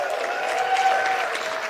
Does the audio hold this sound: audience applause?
yes